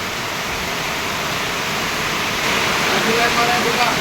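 Heavy rain that has poured for hours over the capital, flooding into a shop, roaring as a loud, dense, constant wash of noise that swells slightly partway through.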